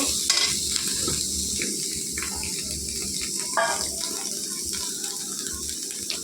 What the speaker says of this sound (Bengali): ভালো করে বেশ ভেজে নিয়ে তেলের উপর হলুদ দিয়ে দিয়ে ফোরটা দিতে নাড়াচাড়া করতে হবে